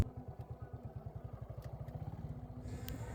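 A 2006 Suzuki Shogun 125 SP motorcycle rolls in to park, its small engine putting out a rapid, even low thumping that holds steady and close before easing off.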